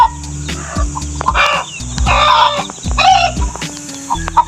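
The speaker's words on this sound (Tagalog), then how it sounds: "At ito naman pong pumuputak na ito ay gusto pong mangitlog." A hen cackling loudly and close, repeated clucking bursts in an uneven rhythm with a rooster-like call mixed in, on a small farm beside a rounded basket used as a laying nest.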